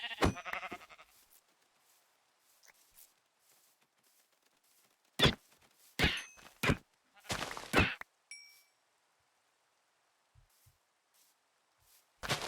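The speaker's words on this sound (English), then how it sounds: "there's always a bunch of sheeps around my house" Sheep bleating in a Minecraft-style video game: several short, loud, close bleats, some in quick succession, separated by near silence, with a faint ding or two in between.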